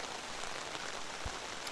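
Steady rain falls on a campground as a dense, even hiss, with one soft low thump partway through and no voices.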